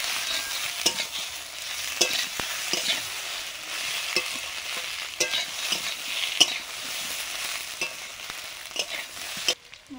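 A ground paste of ginger, cumin and dry red chili frying in oil, a soft steady sizzle broken by repeated spoon scrapes and taps against the pan, close by with no talking.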